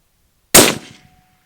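A single loud, close rifle shot from a Bergara B14 HMR chambered in 300 PRC cracks sharply once, and its report decays over about half a second.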